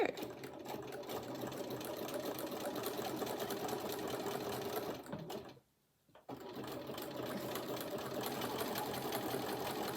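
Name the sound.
sewing machine zigzag stitching fabric edge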